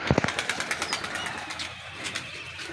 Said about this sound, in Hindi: वो दबास कबूतरी भी उड़ रही है,